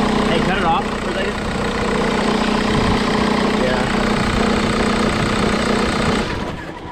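A junkyard VW MK4 TDI wagon diesel engine, its tensioner shaking, runs close and loud with a steady rattling idle until it shuts off near the end. Voices talk over it.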